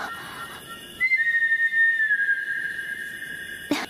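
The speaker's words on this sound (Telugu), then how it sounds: "అది మా రాహుల్ విజిల్" A person named Rahul whistles a long, sustained tone that rises and then holds steady before fading, loud and clear against a quiet room, with a brief clatter near the end.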